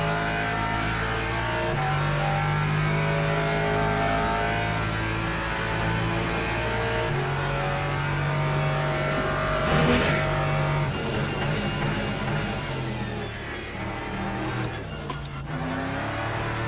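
A race car engine drives hard through a timed lap in Le Mans Ultimate, sustained loud engine drone with rising and falling revs as gears shift, close and continuous with no talk.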